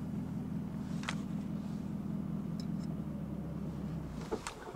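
A manual transmission car pulls away from a stop with a low, steady engine drone close by, faint and continuous, with a few brief clicks and knocks over it.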